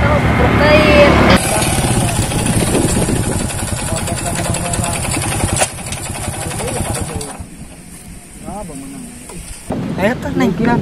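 Motorcycle engine idling and revving close by in a rough, fluctuating rumble with mechanical clatter, while people talk over it, and the engine noise drops away toward the end.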